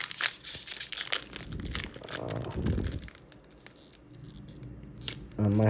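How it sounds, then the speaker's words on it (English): Close crinkling and crunching of stiff plastic Digimon card blister packs being torn and pried open, with irregular bursts of rustling. "Now it's time to get to the business and open up these blisters."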